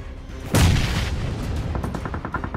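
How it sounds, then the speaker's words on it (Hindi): Gunfire in a mobile battle-royale shooter game: a loud burst at about half a second followed by a rapid, sustained rattle of shots, with sharp repeated cracks toward the end, fairly close and with no speech. "सर गाइस यहाँ पर फौज भाई के ऊपर चार चार बंदे एक साथ यार गोलियां चलाने लगते हैं"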